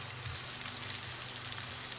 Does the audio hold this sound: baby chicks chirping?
no